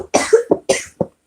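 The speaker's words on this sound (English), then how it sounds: "I smoke cigarettes, so I have that unfortunate cough that comes with it." Several harsh, chesty coughs from a cigarette smoker, about four or five bursts in quick irregular succession, close and loud with no talking.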